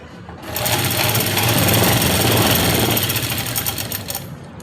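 A sewing machine runs a fast, continuous stitching burst of about four seconds, sewing elastic into the waistband of an Afghani salwar, loud and close with no voices.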